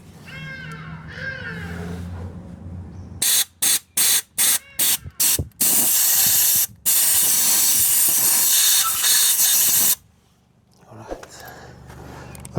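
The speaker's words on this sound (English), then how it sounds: "I'm going to spray it out with some compressed air." Compressed air blasts into the bolt threads of an Opel Corsa, first in several short loud bursts, then in one long sustained hiss. Speech comes before and after.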